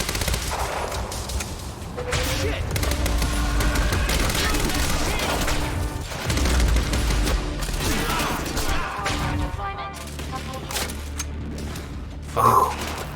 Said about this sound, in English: Can we stop shooting the time machine, please? So many bullets.